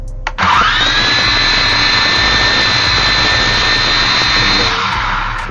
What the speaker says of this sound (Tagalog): to power on the motor, just press the left joystick up